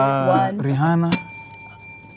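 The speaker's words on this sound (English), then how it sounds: "Put the bell away." A bell rings once sharply and clearly, right after a person speaks and with a lingering ring that fades out.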